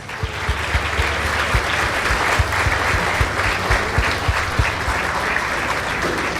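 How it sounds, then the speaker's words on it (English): A crowd at a high school commencement ceremony applauds steadily, a dense, continuous wash of clapping with some individual claps standing out near the front. "Let us give them a round of applause."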